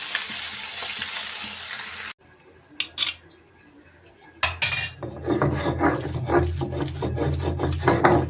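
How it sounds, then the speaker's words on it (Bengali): Fried bottle gourd peel is ground on a stone slab, with rhythmic rough rubbing and scraping strokes that start after a short quiet pause and a few knocks and continue steadily. "এখন পাটায় বেটে নেব।"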